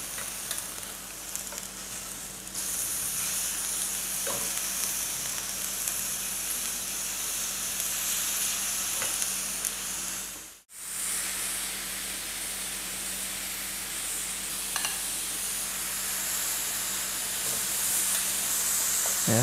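Squid sizzles in a hot pan for spicy grilled soy-sauce squid, a loud continuous frying hiss with steamy spray as the soy sauce goes in, one brief dip midway, close up and without talking.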